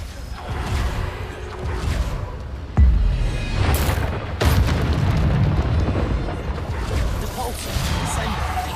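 Bombarda spell blasts in Hogwarts Legacy, sharp booming explosions landing at intervals amid a dense, continuous wash of spell whooshes and impacts, loud and close, with voices calling out spell names over the action.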